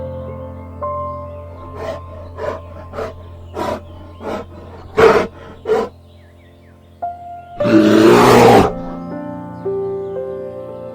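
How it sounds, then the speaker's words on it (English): A bear gives a series of short rhythmic huffing grunts, then one long, loud, rasping roar up close, with faint music behind. "Bear."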